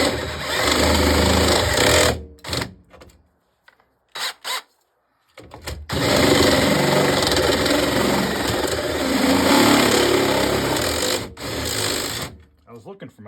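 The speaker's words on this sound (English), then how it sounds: "It does kind of bother me drilling a hole in this door." Power drill boring a hole through the door of a Solar Fox arcade cabinet, a loud, close, steady whine in long bursts broken by short pauses and brief restarts.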